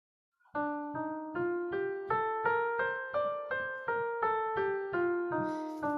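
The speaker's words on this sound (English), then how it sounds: "First one is Maqam Bayati, and it sounds like this." Maqam Bayati is played as a scale, about fourteen clear plucked or struck notes in an even rhythm rising and then falling back, close and alone.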